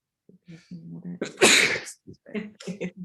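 A single loud, sharp sneeze bursts out mid-clip, with a calm voice speaking before and after it.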